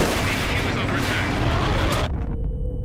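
The Sturmtiger's rocket gun fires in Company of Heroes 2, a huge sustained roaring blast that fills the sound and then cuts off abruptly, leaving a faint tail.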